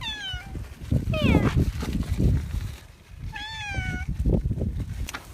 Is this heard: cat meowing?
yes